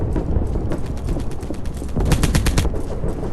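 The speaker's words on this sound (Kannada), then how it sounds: "ನೀರೊಳಗಡೆಯಿಂದ ಶೂಟ್ ಮಾಡ್ತಿದ್ದಾನೆ ಯಾರು" Rapid automatic gunfire in Polyfield 2, fired by a player shooting from underwater near a small bridge and dam, loud bursts of repeated shots that intensify toward the end.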